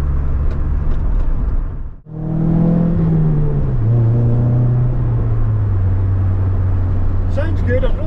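A Vauxhall Nova engine revs hard close by, then its loud droning pitch sinks steadily as the revs fall away and settle into a lower rumble.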